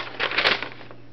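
Fingers tap out a short burst of keystrokes on a keyboard, a brief cluster of close, clattering clicks that fades into quiet room tone.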